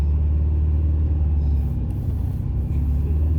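A 1974 VW Super Beetle engine runs in a steady, loud, low rumble that holds without a break from start to finish, with no talking over it.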